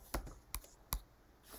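Three sparse, distinct keystrokes on a computer keyboard while a search is typed into Canva, quiet and close with soft gaps between the taps.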